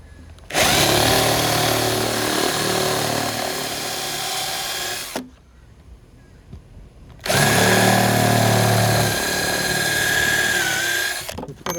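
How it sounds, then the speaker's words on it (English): A power tool bores a plug hole in a cumaru deck board in two long, loud whirring bursts separated by a short pause. "And then we'll cut a hole for our plug."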